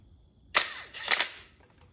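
Air impact gun zipping bolts onto a Nissan 350Z rear differential, two short loud rattling bursts in close succession, nearby and without talk.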